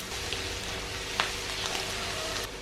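Chopped ginger and garlic sizzle in hot coconut oil, stirred with a silicone spatula, giving a steady, fairly loud frying hiss with scattered light crackles and taps throughout.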